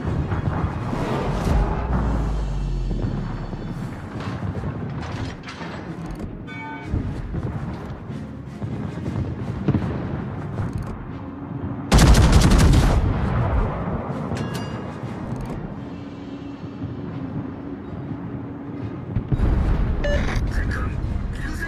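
Naval gunfire from the British battleship Iron Duke and other warships in World of Warships, heavy booming salvos and rumbling impacts spread across the scene, with a loud blast burst midway and intermittent voices over the battle.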